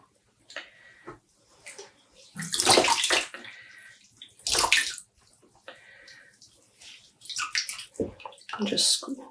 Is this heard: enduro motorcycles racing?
no